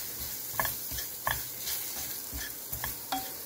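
Red chili, cumin and amchur powders being stirred into a pan over a medium-low flame: repeated scraping strokes of a spoon against the pan about every half second over a soft, continuous sizzle.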